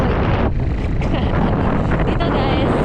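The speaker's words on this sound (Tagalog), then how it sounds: "sobrang lakas ang hangin dito kung dinadaan sa Steel Bridge" Strong wind on a steel bridge roars continuously against the microphone, a loud, steady buffeting rush with no clear pauses.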